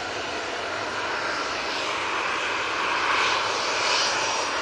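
A Ryanair Boeing 737-800 fitted with Sharklets roars past at Manchester Airport, a loud, steady broadband jet rush that swells slightly toward the end, with no voices over it.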